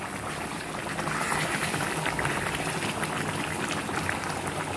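Beef braises in a pan, bubbling and sizzling in a steady, dense simmer that carries on evenly throughout, close and fairly loud, with no voices.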